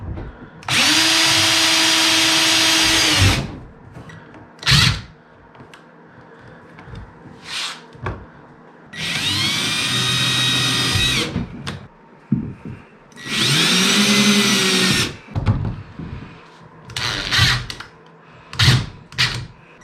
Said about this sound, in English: we're gonna bore out a little bit because they're self-threading screws